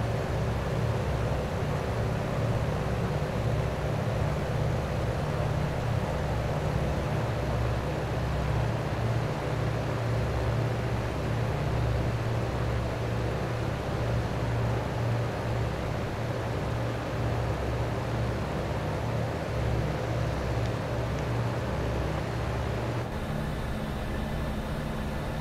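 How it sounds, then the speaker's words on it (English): A light aircraft engine in cruise flight in Microsoft Flight Simulator gives a steady, unbroken drone with a low hum, and no one talks over it. "What a beautiful airplane. And she sounds good too."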